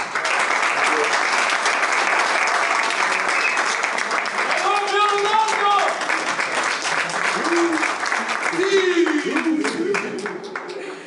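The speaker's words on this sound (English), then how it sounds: "another round of applause to our great player and star, Cristiano Ronaldo." Sustained, loud crowd applause for Cristiano Ronaldo fills the whole stretch, with an announcer's voice and music-like tones rising over the clapping midway.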